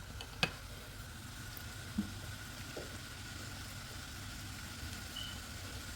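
Vegetables stir-frying in a pan in a home kitchen give a faint, steady sizzle under a low background hum, with a couple of soft clicks from utensils against the pan.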